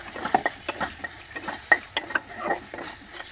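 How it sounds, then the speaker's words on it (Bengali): Ginger and garlic paste is stirred in mustard oil in a pan, with a spoon scraping and clicking against the metal in irregular taps over a soft background sizzle. "তারপর নাড়াচাড়া করে মিশিয়ে নিব"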